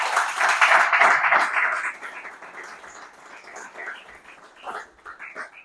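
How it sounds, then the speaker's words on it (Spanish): Congregation in a church gives a brief round of clapping and applause, loud at first and then thinning into scattered claps. "Un aplauso al Rey de Reyes"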